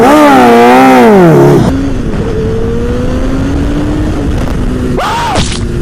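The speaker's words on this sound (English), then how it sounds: "MT-07, baby. Give you all that grunt off the line." A Yamaha MT-07 motorcycle engine accelerates with a loud wavering rise and fall of revs, then settles to a steady drone before a final sharp rev burst, close by.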